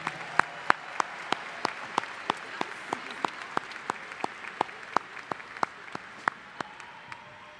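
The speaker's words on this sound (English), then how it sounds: "One more round of applause for Mr. Jason Dashew and our Choraleers." Scattered, distant applause at a high school commencement ceremony honoring a choir director and his choral group: a thin, even patter of individual claps that carries on steadily and fairly quietly, with no voices.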